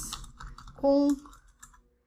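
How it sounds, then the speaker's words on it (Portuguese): A computer keyboard gets bumped mid-lecture, giving a few soft clicks and taps around a brief, louder tonal burst, close to the mic, with faint background noise. "Deu um chute aqui no meu teclado."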